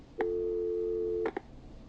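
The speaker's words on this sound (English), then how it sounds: "I think it's time for me and Maxie to free up your phone lines" In the Killer Frequency video game, a phone line disconnect tone sounds as one long, clear, steady beep lasting about a second, followed by a short click-like blip, over a quiet background without talk.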